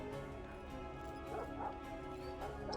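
Dog in Kingdom Come: Deliverance II barking and whimpering as it is petted, a few soft yips and whines over steady game background ambience and music.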